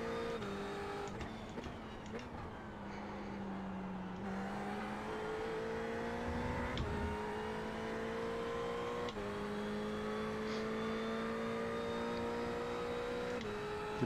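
A Ferrari GT3 race car roars past at Road America in the iRacing sim, its engine note rising and falling through gear changes alongside other cars, with a sustained, fairly close howl.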